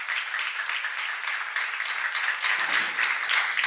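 Church seminar congregation clapping on cue, a lively patter of many hands with distinct individual claps standing out, moderately loud and continuous.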